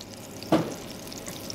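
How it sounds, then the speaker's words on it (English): A brief burst of sizzling as corned beef fritters hit hot oil over medium-high heat, with soft frying crackle continuing faintly afterward. "You should hear a little bit of a sizzle."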